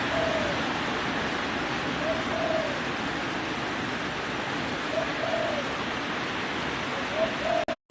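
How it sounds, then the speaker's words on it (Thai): Steady heavy rain pours down on a mountain as a dense, even hiss, with faint bird calls far off and a couple of clicks at the end. "เสียงฝนนะคะ มาไวไปไวค่ะ"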